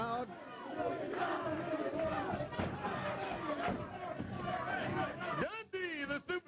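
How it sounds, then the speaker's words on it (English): Wrestling crowd at a Memphis event roaring and yelling steadily, a dense wall of cheers with chanting voices, ending in a few sharper bursts. "Great crowd."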